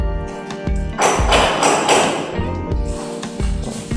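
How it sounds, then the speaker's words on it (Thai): A worker laying new floor tiles, knocking them into place: a string of close, firm taps and thuds with a brief rougher scraping burst in the middle, no talk. "ช่างกำลังปูกระเบื้องนะครับ"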